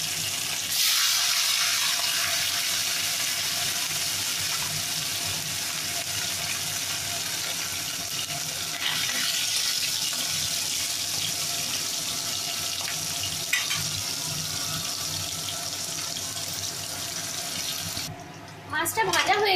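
Parshe fish frying in hot oil seasoned with a little turmeric, a continuous sizzling hiss that holds steady and close for the whole stretch, with a few faint clinks near the end.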